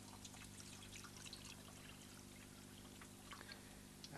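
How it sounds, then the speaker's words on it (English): Water being poured to refill a container for washing photographic film, a soft continuous trickle and splash heard faintly under a low steady hum, with no talking. "Fill it with water again."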